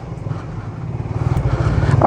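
A Suzuki Raider Fi 150 manual motorcycle idles and revs up close, its loud throbbing engine pulses quickening over the short stretch.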